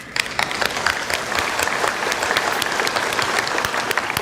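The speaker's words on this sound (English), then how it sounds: "Please give a big applause to welcome Dr. Nguyen Thầy Minh Gil." An audience in a hall breaks into steady applause to welcome a speaker to the stage, dense clapping from many hands that holds evenly throughout, fairly close and with no voices over it.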